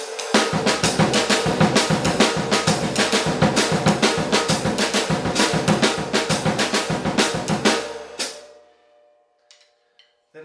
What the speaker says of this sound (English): snare drum read, bass drum fills in the missing triplets